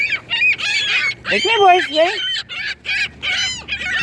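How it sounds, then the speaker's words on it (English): Seagulls cry and squawk in loud, close bursts while being fed by hand, their calls overlapping as a person speaks briefly among them. "They're seagulls."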